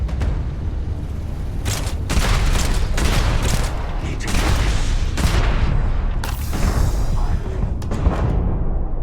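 Repeated grenade launcher explosions in a video game, loud booming blasts and crackling bursts in irregular rapid succession over a dense rumbling background, with no speech.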